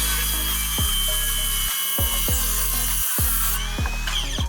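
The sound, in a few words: cordless circular saw cutting a wooden board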